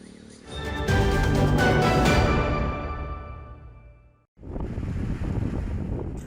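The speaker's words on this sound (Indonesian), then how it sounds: "air pasang atau rob menerjang kawasan Pantai Lampu 1 dan Binaloka, Merauke." Ocean surf from a high tide surging over Pantai Lampu 1 and Binaloka beach in Merauke, Papua: broad, rushing wave wash with wind noise, swelling loud, fading, then breaking again after a brief gap.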